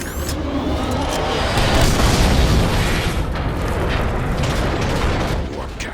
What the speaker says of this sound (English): Warp cannons. Megatron isn't holding back anything this time. It's targeting the Ark.